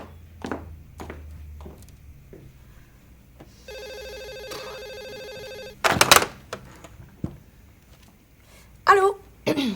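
An office telephone gives a bright, rapid electronic ring for a couple of seconds, preceded by scattered footsteps and soft knocks and followed by louder handling clatter and brief voice bursts.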